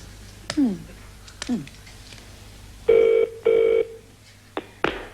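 A landline telephone being dialed for a call on a 1986 British TV show: two short ring bursts after some dialing clicks, with faint studio sounds around them and no talk during the ringing.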